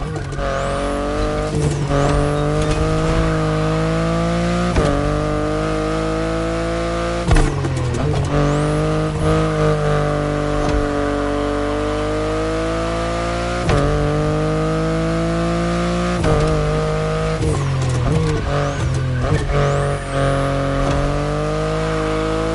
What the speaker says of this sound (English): the compact i3 and the i8, the sports car you're driving.